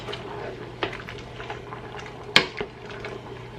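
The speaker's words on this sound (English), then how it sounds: "these are making a boiling noise" A pot bubbles and simmers on the stove during home canning, with soft gurgling and a couple of sharper pops and clinks partway through.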